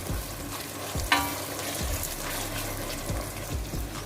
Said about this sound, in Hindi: साथ ही हम इसमें जो सब्ज़ मिर्च जो हमने काट कर रखी हुई है ये भी ऐड कर देंगे और हम इसको अच्छे से भून लेते हैं